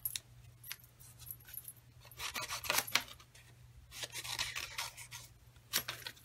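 Scissors fussy cut a small paper flower in quiet, close snips and rustles, arriving in short bursts with pauses between them.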